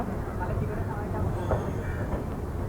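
The Howrah–Mumbai CSMT Gitanjali Superfast train runs close by with a steady low rumble and rolling rattle, a continuous moderate roar with faint voices underneath.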